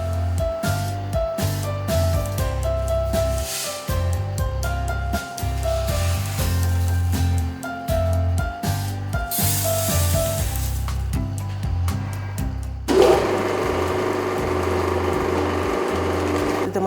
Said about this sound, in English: The machines that we have is a fixed oil extruder. It squeezes the oil from the nuts and the seeds.